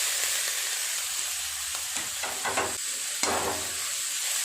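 Boiled banana flower frying in a pan for chop, a steady sizzle with occasional scraping stir strokes, close and continuous with no talk.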